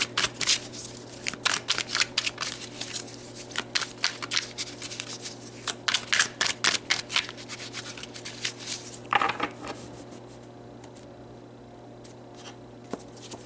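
Tarot cards are shuffled and drawn in a quiet room. Soft, quick riffling and rubbing comes in bursts, then gives way to a few faint slides and taps as cards are pulled.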